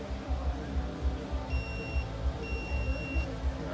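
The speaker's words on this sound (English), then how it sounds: "You'll hear 2 beeps when it's done." Two electronic beeps from an M600 drive controller signal that a firmware load is done, each a thin tone about half a second long, heard over a continuous low hum.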